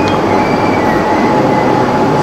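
An electric commuter train rumbles steadily nearby, a continuous loud roar of wheels and rail with a faint high squeal running through it.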